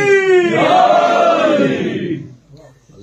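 A congregation at a Muharram majlis in Botswana raises a loud, unified shout of the Haidari slogan, a sustained roaring chant of many voices lasting a couple of seconds before trailing off.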